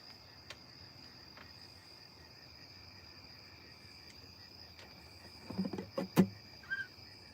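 Insects chirp outdoors at night, a faint steady high-pitched drone of crickets that runs throughout, with a few soft brief knocks and rustles near the end and no talk.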